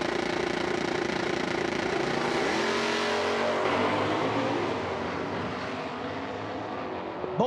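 Drag race cars launching side by side at an IHRA Outlaw Nitro event in Milan, a Cobra Jet against a 1998 Dodge Avenger, engines roaring loudly and steadily, then receding as they pull away.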